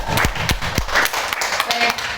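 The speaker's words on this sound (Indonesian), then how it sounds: "tepuk tangan dulu Bapak Ibu" Teachers in a hall give a short round of applause: a few loud, sharp claps in a brisk rhythm that thin into scattered, lighter clapping, with no speech over it.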